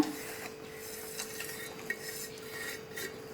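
Palm jaggery being worked into a dry puttu flour mixture by hand, a soft steady rubbing and rasping texture that stays quiet and close, with a few faint scrapes along the way and no talking.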